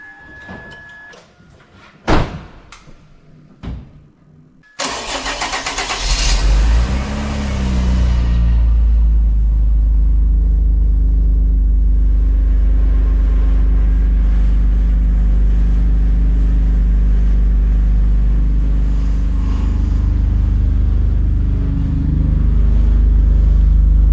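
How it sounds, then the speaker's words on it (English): A V6 24-valve car engine, cold, cranks and catches after a few knocks and a door-like thud. It then settles into a loud, deep, steady idle rumble that goes on for the rest of the clip. "Let's see how a V6 24-valve sounds."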